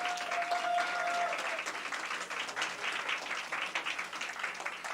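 A retreat audience breaks into sustained applause for Jeonghan's group at a 2023 youth church camp, dense steady clapping filling the hall with a faint cheer or whistle near the start.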